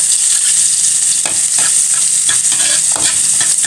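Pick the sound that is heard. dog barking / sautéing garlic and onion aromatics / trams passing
sautéing garlic and onion aromatics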